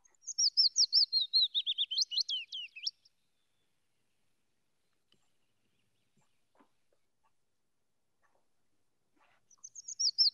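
Willow warbler song played from a recording: a clear, high descending cascade of sweet notes lasting about three seconds, then silence, with the start of another phrase at the end.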